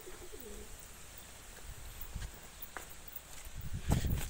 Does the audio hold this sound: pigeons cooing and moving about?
yes